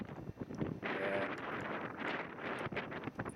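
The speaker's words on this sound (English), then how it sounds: "Oh wow, windy." Gusty wind buffets the microphone in heavy rumbling bursts near a dam at Amboy volcano, rising and falling across the whole stretch.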